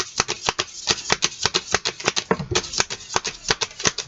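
Tarot cards being shuffled by hand, a rapid run of crisp riffling snaps and flicks close up, repeating in quick bursts with no talk.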